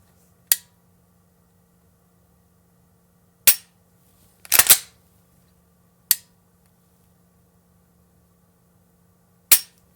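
An upgraded Glock 19 Gen 4 pistol is dry-fired several times. Five sharp, isolated clicks come from close by at irregular intervals over near silence, and one click lands as a quick double.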